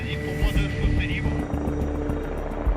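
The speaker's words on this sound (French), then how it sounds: "L'hélicoptère va devoir descendre au plus près pour pouvoir identifier s'il s'agit d'un véhicule." A helicopter flies low over a ravine with a close, steady rotor thump and a whining turbine, while people talk over the noise.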